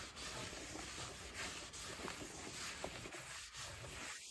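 A 2021 Subaru Ascent rear brake rotor surface being rubbed clean by hand during a pad and rotor job, a soft continuous scrubbing and wiping, faint and close, with no talking.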